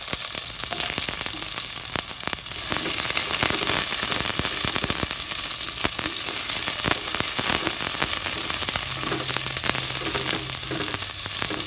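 Onions sauté in a frying pan with a loud, continuous crackling sizzle that stays close and dense throughout, broken by occasional sharper pops.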